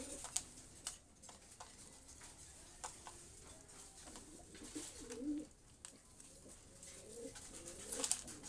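Fancy pigeons such as Jacobins and other show breeds kept in a loft coo softly and intermittently, faint and fairly close, with scattered small ticks and clicks from the birds moving about.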